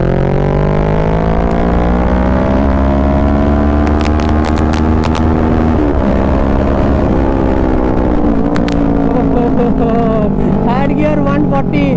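A Kawasaki Ninja 650 with a full Mivv exhaust system accelerates hard, its loud, close engine note climbing steadily through the gears with brief dips at each shift, and faint crackle near the end.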